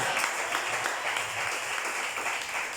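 A church congregation claps for the Lord, a brief, even wash of many hands with soft rhythmic accents, fairly close and continuous.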